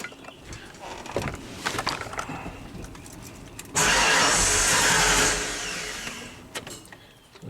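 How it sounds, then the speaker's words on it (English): A 1995 Ford F150 truck engine cranks and starts, with rattly cranking noise followed by a sudden loud, steady roaring run for about two seconds that then fades down, recorded close. "Truck should fire up."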